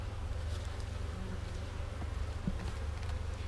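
Honeybees humming steadily at an open backyard apiary hive during a brood check, a dense, continuous low drone with no talking.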